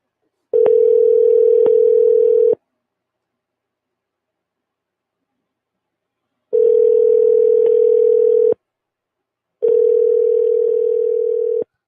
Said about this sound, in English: One more ring and I'll give it up.